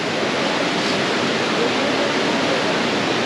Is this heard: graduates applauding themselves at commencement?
no